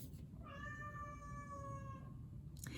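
A cat lets out a single long, drawn-out meow indoors, faint against a low background hiss, with no talk over it.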